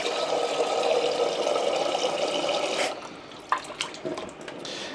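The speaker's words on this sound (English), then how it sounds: "Let me put some more water in and just top that up a bit." Water poured steadily to top up a container, a loud continuous splashing rush that stops after about three seconds, followed by a few scattered drips and small splashes.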